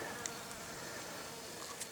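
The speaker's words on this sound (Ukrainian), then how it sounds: "Бджола лазить по огіркам." A faint honey bee buzz hums over quiet outdoor background at an apiary near cucumber plants, soft and steady with a couple of brief louder passes.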